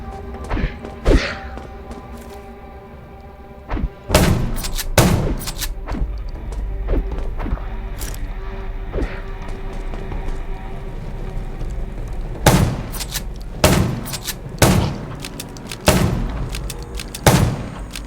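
Gunshots in the Undawn zombie survival video game, scattered sharp cracks and thuds, some in quick clusters, over a low steady game background hum.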